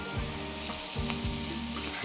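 Amboli rice batter sizzles and crackles steadily on a hot, oiled iron tawa, a close, continuous frying hiss with no voices.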